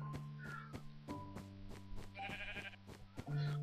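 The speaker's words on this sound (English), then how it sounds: "Good lord, look at all the sheep." Sheep in the video game Minecraft bleat several times in a row, fairly faint under steady game tones and music, with no one speaking over them.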